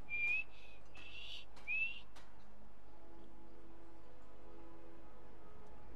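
A Skyrim character whistles two short, bright rising notes, one at the very start and one about two seconds in. The whistles are fairly faint and sit over quiet game ambience with no talking.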